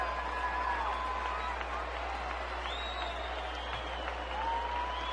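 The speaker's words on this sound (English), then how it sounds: "Crowd getting a little impatient." Crowd at a Phillies at Cubs baseball game, a sustained wash of clapping and cheering from the stands with some long held tones, and a voice talking over it.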